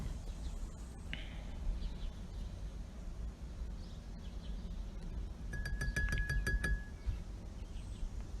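A paintbrush rinsed in a glass of water, a quick run of bright, tinkling clinks as the brush rattles against the glass, over a low background hum.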